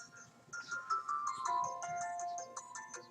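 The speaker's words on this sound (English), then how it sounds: "I got a phone call coming in" A phone ringtone for an incoming call chimes in a tinkling melodic pattern of repeated tones, moderately loud and alone for about three seconds.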